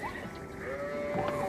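A sheep bleats in a strategy video game, one drawn-out wavering bleat heard clearly over a quiet game backdrop, with no talking.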